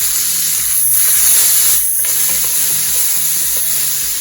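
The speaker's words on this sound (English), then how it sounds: "we're going to add in our celery, peppers, and our onions and give it a little boil on. I'm also going to add my garlic in" Celery, peppers, onions and garlic sizzle in a hot pan, a loud, steady frying hiss with brief bursts of stirring, heard alone throughout.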